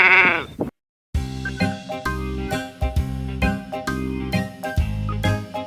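Sheep bleating in a sunny farm scene, a wavering bleat at the start followed by gentle tinkling bells and music with steady rhythmic beats.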